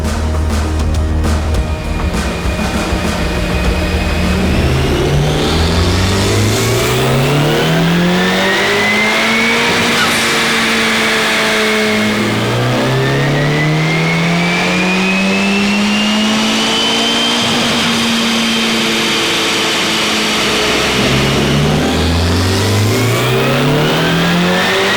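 A tuned 10th-generation Honda Civic Type R revs hard on a dyno, climbing repeatedly through the gears in loud, rising engine sweeps with brief drops at each shift, close and continuous.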